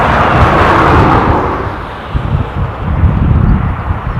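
An airliner taking off down the runway at Dublin Airport, a broad roaring jet rumble that stays steady and loud, with low wind buffeting on the microphone.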